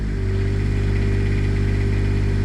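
An Onan Quietdiesel 7500 diesel generator idles, a steady, loud, even engine drone with a constant low hum and no change in pitch throughout.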